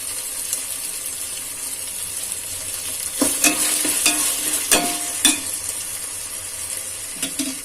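Green chillies are tossed into onion and tomato frying in a pan for Ambur chicken biryani, with a steady close sizzle and several sharp scrapes and clinks of a spoon stirring against the pan.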